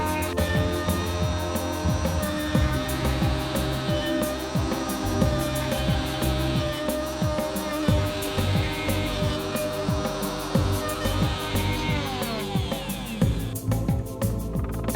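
Power router flattening the top face of a guitar body, loud steady machine whine with repeated grinding cutting passes throughout, no speech.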